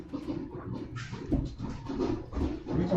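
Aquarium bubbles pop in a house as a soft, continuous burbling and popping texture that sounds muffled and roomy, with occasional louder thumps.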